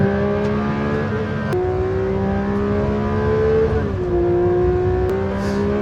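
A Porsche 911 GT3 intake hums steadily with a few pitch shifts as it revs and eases, the tone smooth and sustained throughout.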